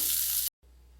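Onions tempering in hot oil in a pan with salt for a semolina dish give a steady, loud hiss of sizzling frying that cuts out briefly and returns softer.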